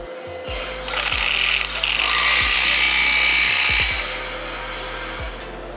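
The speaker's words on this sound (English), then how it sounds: "With your clamp lined up, grab a 16mm socket and tighten it down." A power tool or impact driver with a 16mm socket whirs in bursts, tightening an exhaust clamp on a BMW G8X M3/M4 mid pipe during an AWE exhaust install, close and steady with brief stops and restarts.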